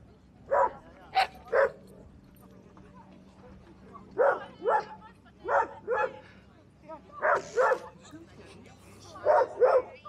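Dogs bark and yip in short bursts at a dog beach on the North Sea coast, several barks spread across the scene at moderate distance, with outdoor background noise and no speech.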